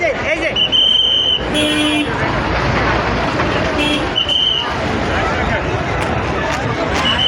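Highway traffic on the Dhaka–Mymensingh road beside a busy festival fair, with horn toots, passing vehicles and a continuous crowd babble close by.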